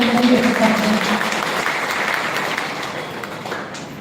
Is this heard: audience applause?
yes